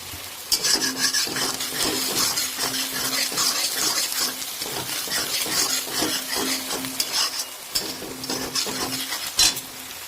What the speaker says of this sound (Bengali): তো আমাদের এটা জাস্ট আরও 5 মিনিট একটু ভেজে নিতে হবে